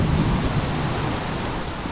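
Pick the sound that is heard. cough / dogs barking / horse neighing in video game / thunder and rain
thunder and rain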